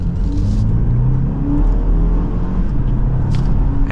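A 2024 BMW X2 xDrive28i picks back up to speed under light throttle, giving a steady, muted engine and road rumble heard from inside the cabin, continuous and fairly loud with no talking.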